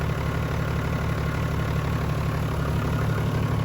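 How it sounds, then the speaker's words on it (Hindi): A Toyota HJ61 diesel engine idles steadily at close range, a loud and even low rumble with no talking over it. "ये इसके इंजन की साउंड है"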